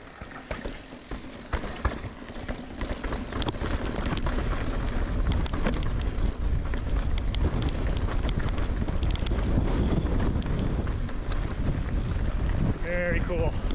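Strong gusting wind roars across the microphone while mountain biking on the Kokopelli Loops near Fruita on a very windy day. The buffeting is loud and continuous, with a brief voice near the end.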